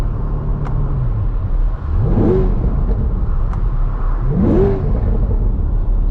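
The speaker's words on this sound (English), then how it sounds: "hold the two paddles and rev it, kind of really get some of the sound out there" A 2023 Chevrolet C8 Corvette Z51 V8 revs sharply twice in neutral, each climbing quickly then dropping back, over a steady loud idle rumble.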